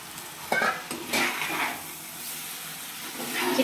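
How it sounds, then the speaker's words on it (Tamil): Raw chicken pieces dropped into hot masala in a pan for a chicken gravy, frying with a steady close sizzle and stirring scrapes, a sharp burst as the meat goes in, no talking. "சுத்தம் பண்ணி வச்சுருக்க சிக்கனை சேர்த்துக்கலாம்"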